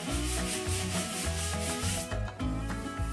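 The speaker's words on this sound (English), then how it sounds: "going to go ahead with the finer side of that sanding sponge and I'm just going to sand it smooth" Rhythmic scratchy rubbing of the fine side of a sanding sponge smoothing dried wood filler, close and continuous, with repeated back-and-forth strokes.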